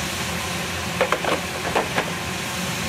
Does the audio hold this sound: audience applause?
no